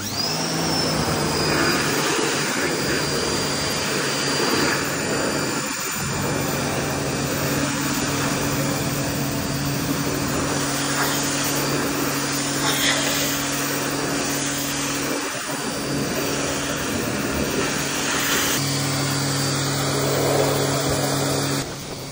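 Blower drying a freshly washed Ford Focus ST, a steady loud whooshing air roar running continuously throughout, close by, with small shifts in pitch as the nozzle moves and no talking.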